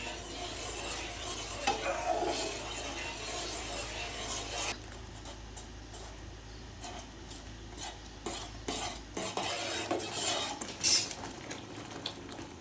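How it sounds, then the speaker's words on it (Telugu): Coconut rava kesari of semolina and grated coconut stirred in a pan over a medium stove flame, with a steady scraping and clinking of the spoon against the pan and a faint sizzle, no voices. "ఇలా స్టవ్ మీడియం ఫ్లేమ్లో పెట్టుకొని ఇలా కలుపుకుంటూ ఉండాలండి"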